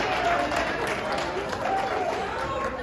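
A band concert audience applauds a trombone feature, dense sustained clapping and crowd noise filling the hall at steady loudness throughout.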